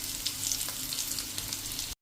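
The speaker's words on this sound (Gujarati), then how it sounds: "આ રીતે જો આપણે બધા પાત્રા ટર્ન કરી લેશું અને બે સાઈડ આપણે સરસ શેકી લેશું" Cabbage patra rolls fry in a pan with oil, giving a steady close sizzle and crackle with small popping spatters, continuing alone for about two seconds before cutting off.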